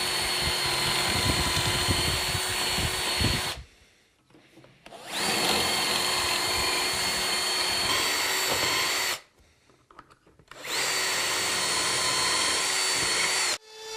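A Bosch handheld power tool bores dowel holes in timber for a drawer front. Two long, loud, steady whining runs are split by short pauses and begin again.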